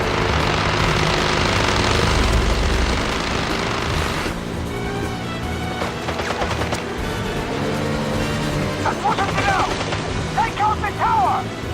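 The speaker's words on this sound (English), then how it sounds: "helicopter coming out." A helicopter in the video game James Bond 007: Blood Stone, a loud continuous rotor and engine roar up front that then sits beneath scattered gunfire, crackles and sharp game effects.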